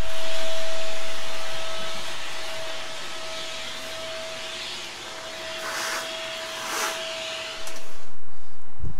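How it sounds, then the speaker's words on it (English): A shop vacuum roars steadily as it sucks up loose aluminum shavings left from porting an S&S oil line kit, a constant loud whine with a steady tone and brief rattling bursts of debris, then louder near the end. "I'm gonna vacuum everything out right now, vacuum up all this aluminum"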